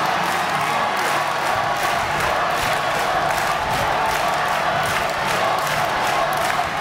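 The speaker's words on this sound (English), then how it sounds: "Again, you can hear the Mitsui Sumitomo Kaijo cheering section, cheering on Shibui." The Mitsui Sumitomo Kaijo cheering section roars for runner Shibui during the women's 10000 m at the 2008 Japanese Olympic Trials, a dense, continuous wall of crowd cheering and shouting that stays loud throughout.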